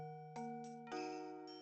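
Minor-key jingle bells chime melody from the video game Mario and Luigi: Partners in Time, with bright sustained tones and a few bell-like strikes in quick succession, playing alone.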